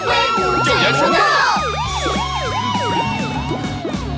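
Cartoon ambulance siren, loud and near, a repeating swooping wail in quick rising and falling cycles over a bouncy musical backing.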